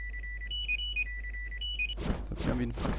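A fax-like electronic ringing melody from the Simon the Sorcerer 3D video game: a repeating beeping tune, moderately loud, that gives way after about two seconds to a denser burst of game sound.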